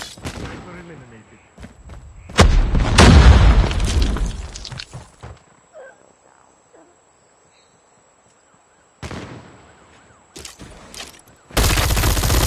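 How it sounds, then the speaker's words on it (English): A grenade bursts and guns fire in Call of Duty Mobile, with a loud boom and rumble early on. Another blast follows after a near-silent stretch, with game voices speaking in between. "Grenade out!"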